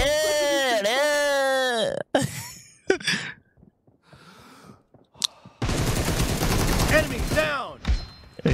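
Rifle fire in the battle-royale game PUBG from M762 and AKM assault rifles, sharp bursts and a sustained loud volley near the end, mixed with game voice lines and breathy vocal sounds.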